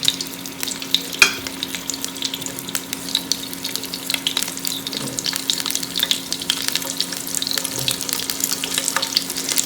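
Karela (bitter gourd) frying in hot oil in a pan gives a steady, crackling sizzle with scattered pops. It continues close up and alone throughout.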